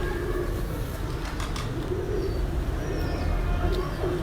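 Racing pigeons coo on a rooftop in Kharian, soft low repeated calls over a constant outdoor rumble with a few faint chirps.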